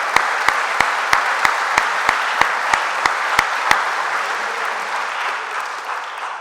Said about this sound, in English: let's give them a round of applause for being here to celebrate today